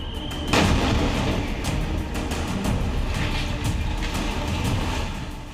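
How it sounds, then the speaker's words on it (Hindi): A demolition blast brings down a building in Indore, a sudden heavy boom followed by a sustained rumbling roar of collapse that fades slowly over several seconds, loud and without voices. "धमाका होता है और इमारत एक तरफ झुकने लगती है और चंद सेकंड में ही धूल के गुबार में समा जाती है"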